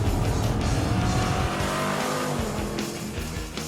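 Jeep Grand Cherokee engine in track mode accelerating hard, a loud, sustained, NASCAR-like roar with shifting pitch and a steady high level throughout, heard close with no talking.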